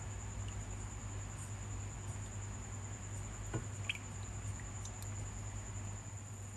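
Butterfly pea sago mixture simmers in a pot over a gas flame, giving a faint, steady bubbling with soft wet squishes and occasional small pops, close and quiet against a low hum.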